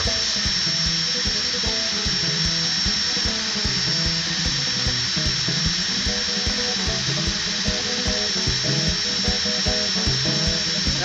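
A modest-speed power drill runs continuously with a steady, whining motor hum, fairly quiet and close, with no talking over it.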